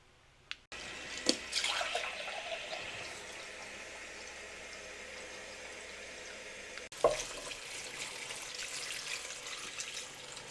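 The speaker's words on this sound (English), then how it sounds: "Now what I need to do is add 2 litres of water to this and then turn the hob on a low heat." Two litres of water poured into a cooking pan from a tap, a steady close splashing rush that stops briefly midway, then resumes.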